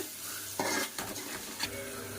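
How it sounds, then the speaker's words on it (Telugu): Fish curry with tomatoes being stirred in a pot, a few soft scraping strokes of a spoon against metal over a faint low simmer, close and quiet. "అడుగంటకుండా ఈ విధంగా కలుపుకోవాలి."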